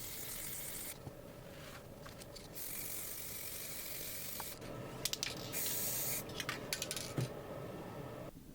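An aerosol spray can coats clock parts in a second layer of paint, delivering long continuous hissing bursts with short pauses between them and a few faint clicks and taps, close and alone.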